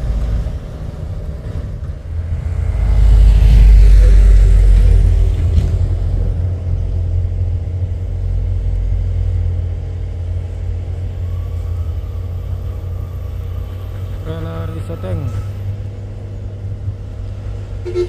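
A heavy trailer truck engine climbing Bukit Kodok hill in North Sumatra rumbles and strains at low pitch, swelling louder early on, then droning steadily with faint mechanical whine and no speech.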